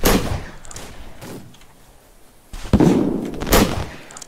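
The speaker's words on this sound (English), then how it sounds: "Someone's shooting a firework." A firework launched in a Wild West video game, sounding as several sharp bursts: a loud crack near the start, another around the middle and a strong blast with crackle toward the end, between quieter stretches.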